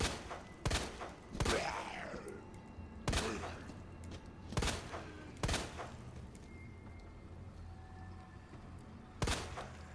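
Gunshots in Resident Evil 2 Remake fire against an enemy as seven or so sharp, separate cracks spaced a second or more apart, each followed by brief echoing debris and creature noise in between.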